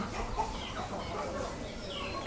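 Chickens on a Thai backyard farm cluck faintly and steadily across the short stretch, low-level poultry chatter with no voices over it.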